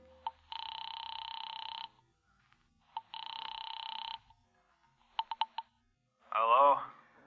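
Old-fashioned telephone bell from a 1950s radio mystery drama, ringing in two long, loud bursts, then a few short clicks, before a voice answers.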